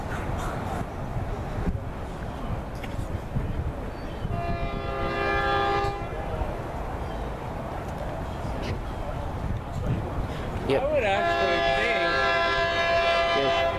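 A southbound Amtrak train with a P42 unit rumbles past, and its horn sounds in two clear blasts, one midway and one longer near the end, over steady rail noise while someone briefly speaks.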